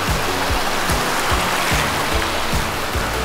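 Snowmelt mountain stream on the Northface Trail above Mürren, a steady broadband rush of flowing water, close and continuous with low rumbling pulses, no voices.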